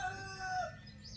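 A rooster on a homestead crows once, a clear medium-distance cock-a-doodle-doo over faint background noise, with no one talking.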